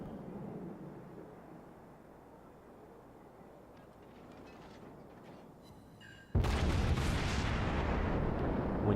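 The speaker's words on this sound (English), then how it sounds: "When you can shoot an enemy ship like this, it's awesome." Ship guns firing in a naval video game: a low, muffled rumble gives way to a sudden loud blast that holds as a dense, roaring wash of sound to the end, with no voices.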